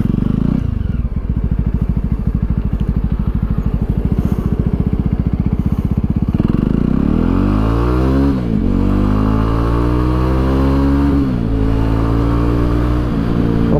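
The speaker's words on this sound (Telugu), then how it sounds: "సో ఈ బండి మనకి టార్క్ అని ఎట్లా యూటిలైజ్ అవుతుంది యాక్సిలరేటర్ ఓపెన్ చేస్తే అనేది ఇక్కడ చూద్దాం." A Jawa 42 motorcycle accelerates hard, its loud engine rising in pitch through the gears with clear drops at each shift, close and continuous with no talking.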